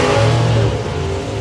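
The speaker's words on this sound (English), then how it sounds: "Rob's car sort of bunny hopping off the line. You can hear the RPM audibly changing." A drag racing car launching off the line at a festival drag strip, engine loud and near with a steady roaring rev whose pitch wavers and shifts as it pulls away.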